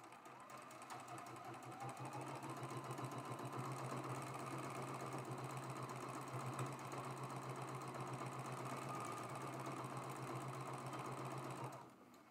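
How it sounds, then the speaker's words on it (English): A sewing machine runs continuously, fast and even, for about twelve seconds while piecing a traditional quilt block, a close steady mechanical hum with rapid needle pulses, stopping just at the end. "Slide that right under and start sewing"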